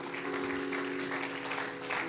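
A church congregation claps together in a dense, continuous round of applause, mid-distance and moderately loud, with a sustained tone humming underneath.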